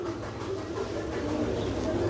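High flyer pigeons coo in a soft, steady low murmur that runs continuously through the stretch, close by and unbroken, with faint background noise around them.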